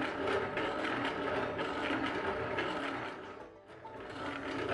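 Drum sander attachment grinding and smoothing knife handle scales, a steady, loud abrasive whir with constant grinding texture that dips briefly before rising again, with no talking.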